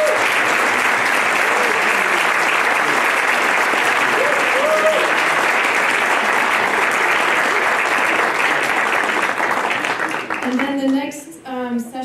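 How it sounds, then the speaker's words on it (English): A room full of people applauding steadily, a dense wash of clapping that fades near the end as a voice starts speaking. "I'd like to ask you to join me in giving them our thanks by clapping"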